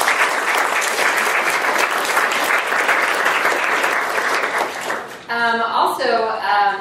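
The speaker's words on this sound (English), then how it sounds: "Can we get another round of applause for them?" An audience at a Women Who Code anniversary party gives panelists a sustained round of loud clapping, fading at the end as a voice begins speaking.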